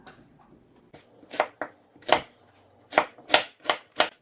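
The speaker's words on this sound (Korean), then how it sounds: "양파는 반 개만 썰어 넣겠습니다" Knife slicing half an onion on a board for a radish water kimchi, a string of about eight crisp, separate cuts in an uneven rhythm, close and clear with no talking.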